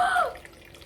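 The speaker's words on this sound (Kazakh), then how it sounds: "Төгілген дауыс естілді." Water is poured during a party game, giving a short splashing trickle that fades out within a second, close by and alone.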